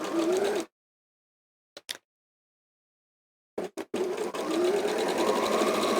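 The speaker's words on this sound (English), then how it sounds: "So let's pop this down here and sew straight across" Sewing machine stitching straight across a lining, a close steady whirring run that halts into silence with a few brief clicks, then resumes for another sustained run.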